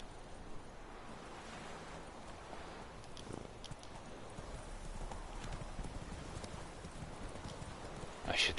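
Roach, Geralt's horse in The Witcher 3, clops along with soft rhythmic hoofbeats under ambient game noise, followed by a short louder burst at the end; a faint voice murmurs in the background.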